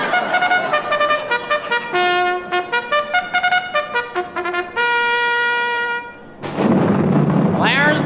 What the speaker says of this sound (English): There's the bolt of lightning.